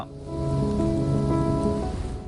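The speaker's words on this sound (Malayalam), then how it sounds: "ഇരുട്ടുകുത്തി പെയ്യുന്ന മഴ" Heavy desert rain pours in Saudi Arabia in a steady, dense roar with lightning, loud and unbroken, with a low tonal drone running underneath.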